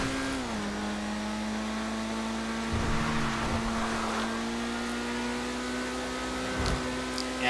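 A video game car engine drones steadily at a fixed pitch, with a dip in revs near the start, then holds under faint whooshing and brief low thumps, loud and close throughout.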